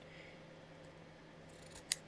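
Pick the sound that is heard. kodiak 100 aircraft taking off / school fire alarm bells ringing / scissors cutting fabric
scissors cutting fabric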